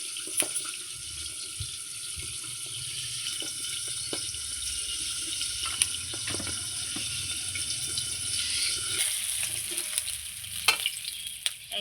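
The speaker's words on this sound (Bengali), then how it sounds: "সমস্ত পাবদা মাছগুলো আমি ভেজে নিলাম।" Pabda fish fry in hot oil with a continuous loud sizzle and crackle, punctuated by occasional stirring clinks and bubbling spurts close by; no voices.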